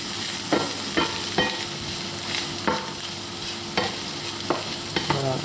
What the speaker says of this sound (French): Et après on mélange bien.